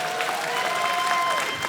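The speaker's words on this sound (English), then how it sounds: "A round of applause." Audience at a live comedy show in Uganda applauds, a dense, steady patter of clapping from a crowd filling the hall.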